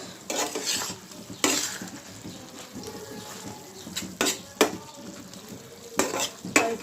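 Oil heating in a pan before mustard flower fritters go in gives a low steady sizzle, broken by several close scraping stirs and sharp clinks of a spoon against the pan.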